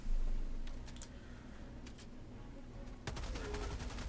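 Weapon fire in the video game Helldivers 2: a few sharp shots early on, then a dense, sustained burst of rapid gunfire from about three seconds on. The reports are loud and close, with no talking.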